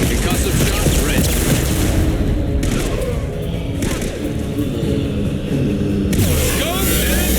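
Booming, concussive blasts and explosive impacts from a Mass Effect 2 combat encounter, a dense, loud barrage running continuously with a brief lull in the middle before the heavy rumble resumes.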